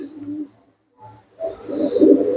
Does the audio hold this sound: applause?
no